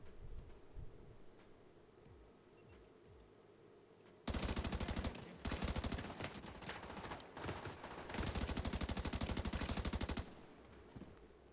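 Automatic gunfire in the video game The Division 2, with long rapid bursts that are loud and dense and drown out the quieter background, with a short pause between bursts.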